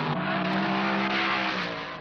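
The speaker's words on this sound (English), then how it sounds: "It's in this heavy traffic that PJ's years of experience and uncanny driving skills pay off" Race cars from the 1970 Trans Am race at Watkins Glen roar past in heavy traffic, a loud, dense engine blare with steady harmonic drone and rising revs, no voices.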